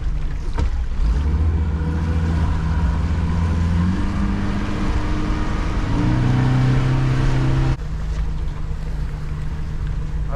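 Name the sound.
fishing boat engine motoring up tide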